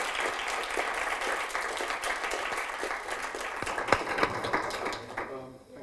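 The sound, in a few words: audience applause for a panel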